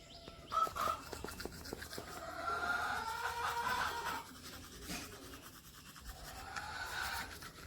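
Teeth brushed with a toothbrush and Colgate toothpaste, a close, quiet scrubbing that runs in uneven back-and-forth bursts with brief pauses and no talking.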